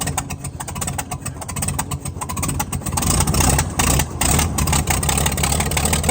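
An old tractor engine idles steadily just after starting, a close, continuous low rumble with a slightly uneven, loping rhythm from exhaust leaks and rough carburetion, running alone without talk.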